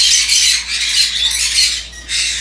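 Birds in an aviary squawking loudly and continuously, shrill overlapping calls close by with brief dips, no speech.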